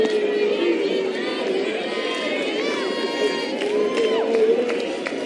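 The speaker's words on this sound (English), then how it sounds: "Huge crowd tonight." Large crowd of close to 4,000 at an evening NCAA softball Super Regional game between Oklahoma and Alabama, a steady wash of chatter and cheering with scattered shouts throughout, a commentator's voice over it.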